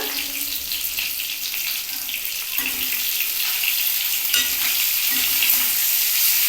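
Potatoes and cauliflower fry in hot oil with a steady, close sizzle and crackle, joined by occasional light stirring scrapes through the pan.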